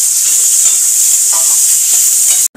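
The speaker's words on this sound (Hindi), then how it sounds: "और इसी तेल में हम आलू फ्राई कर लेंगे।" Potatoes frying in hot oil in a home kitchen for a climbing perch fish curry, a steady loud sizzle and hiss with faint stirring, ending in a brief cutoff.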